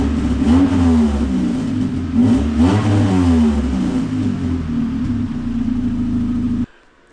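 A Honda CRX with a small hole on the right side of its exhaust revs loudly and close, the engine note climbing and falling in repeated swells before cutting off abruptly near the end.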